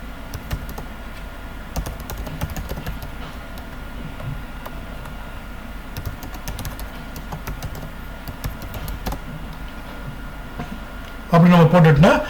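Daily patient care notes are typed on a computer keyboard, a steady run of close, light key clicks under continuous speech, ending in a brief louder burst of sound.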